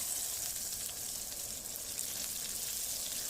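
Stuffed okra frying in groundnut oil in a pan: a continuous, bright hiss and crackle of sizzling oil, close and even, without pauses or voices.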